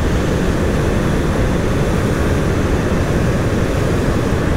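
Ebike hub motor spun to about 10,000 RPM with field weakening, producing a loud, dense, steady roaring whir with no breaks, alone without talk.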